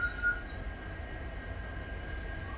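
WDP4D diesel locomotive at the head of the Gol Gumbaz Express, auxiliary power unit running, idling at Mysore station: a steady low diesel rumble with a faint constant whine above it, unbroken throughout.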